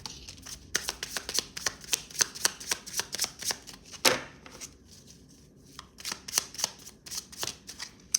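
Tarot cards shuffled by hand in a rapid run of crisp riffling flicks, a brief pause, then more bursts of close, papery shuffling.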